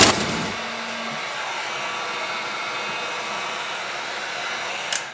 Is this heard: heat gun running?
yes